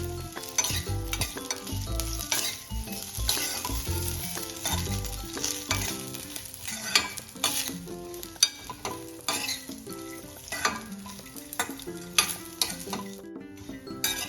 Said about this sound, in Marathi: आता आपण हे सुकं खोबरं बारीक चिरून घेतलं ते यामध्ये थोडंसं ब्राऊन करून घेणार आहे आपण